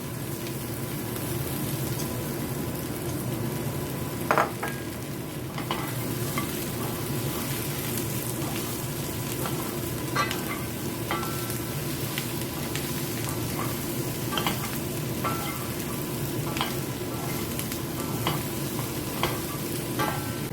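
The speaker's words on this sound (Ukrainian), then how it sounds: "Морква і цибуля трохи обжарилися, викидаю все до картоплі з м'ясом." Onion and carrot sizzle steadily in a frying pan for a vegetable and meat stew, a continuous close frying hiss broken by occasional light stirring clicks and scrapes, with no talk.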